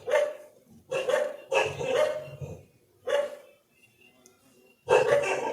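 A dog barks loudly and close, in several deep bursts separated by short pauses, with faint background noise between them.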